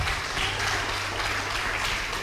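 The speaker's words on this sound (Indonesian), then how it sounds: "Kita berikan tepuk tangan kepada kita." An audience claps continuously through a church service, a dense steady patter of hands at moderate distance, fairly quiet and without voices on top.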